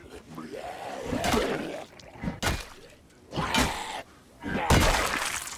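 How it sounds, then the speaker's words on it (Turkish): A zombie in the game Project Zomboid smashes a window, with several loud glass-shattering crashes spaced a second or so apart, mixed with a voice gasping and muttering between the hits. "Ama televizyonun sesini duyduğu için gelip camı kırdı."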